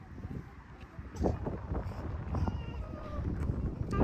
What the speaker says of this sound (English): It was an elevated walk and quite windy